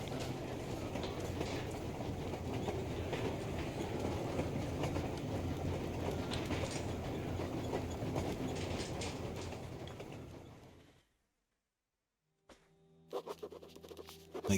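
Train from the game Metro Exodus rolls steadily along rails, a loud, constant rumble with rhythmic clatter for about ten seconds, then sudden silence followed by a few scattered clanks.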